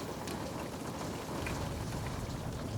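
Steady rain patters against a kitchen window glass on a quiet evening, an even, close wash of drops with no voices.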